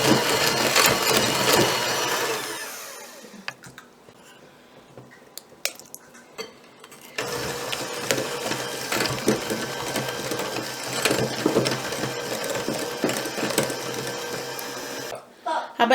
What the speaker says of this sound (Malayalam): 3 എഗ്ഗും ഞാൻ ഇതിലേക്ക് ഇട്ടിട്ട് നന്നായി ബീറ്റ് ചെയ്തിട്ടുണ്ട്